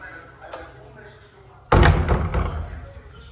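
A door slams with a loud, heavy thud partway through, followed by a rattling reverberant tail, after a quieter stretch with a faint knock.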